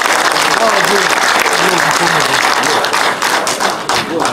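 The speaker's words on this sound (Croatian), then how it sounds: "jedan veliki aplauz za njega" An audience at a festival of traditional Serbian folk singing claps loudly and steadily in sustained applause, while someone speaks over it through a PA.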